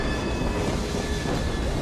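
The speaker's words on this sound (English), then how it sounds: "Are they on this fucking train with me?" A train rolls along its rails in Assassin's Creed Syndicate, giving a short, continuous, dense rumble with no voices over it.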